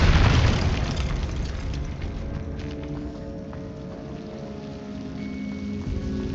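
A Confringo fire-curse explosion from the Hogwarts Legacy video game bursts loudly at the start, then a rumbling, crackling tail slowly fades beneath layered game ambience.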